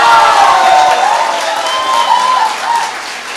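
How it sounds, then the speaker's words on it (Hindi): Audience clapping at a seminar in Ranchi, loud dense applause from a full room mixed with shouting and wavering cheers that fade slightly toward the end. "एक बार जोर से ताली बजा दो"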